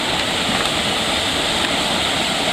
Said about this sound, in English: We got an old dam right here, and a little bit of like a pool of water.